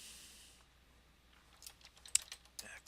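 Keyboard typing and mouse clicks while text in an AquaFitness ad layout is being edited: a quiet room, then a short cluster of light, quick key taps and clicks near the end, close and fairly soft.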